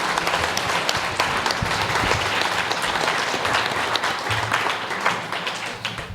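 Sustained audience applause fills the room after a venture capital panel discussion, dense steady clapping from many hands throughout, fairly loud and close, with faint voices mixed underneath.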